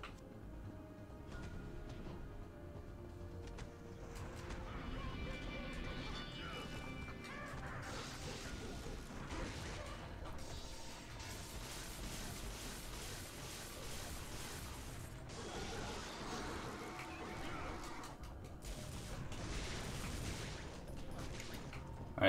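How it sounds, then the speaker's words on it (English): Explosions and crashing blasts in the action video game Devil May Cry, a dense, continuous barrage of bangs and smashes layered over game music and effects, loud and sustained throughout. "let's dodge away from all the explosions"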